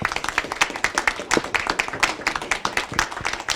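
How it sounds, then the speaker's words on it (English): Scattered clapping from a small audience at a school district press conference, a few pairs of hands beating out quick, uneven claps close to the microphone. "let's give a round of applause for that"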